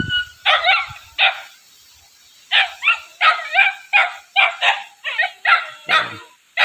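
Dogs kept at a farmhouse alongside goats bark in a series of about a dozen loud, close, yappy barks. They come in quick bursts, with a short pause after the first few and a brief low whimper or grunt near the end.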